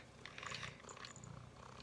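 A long-haired black and white cat purrs steadily and softly up close, a continuous low rumble with faint higher noise over it, no talking.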